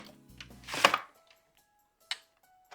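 An upright mandoline slicing vegetables for air fryer sides: a quick scraping slice stroke near the start, then a brief click a moment later, close and fairly quiet in an otherwise still kitchen.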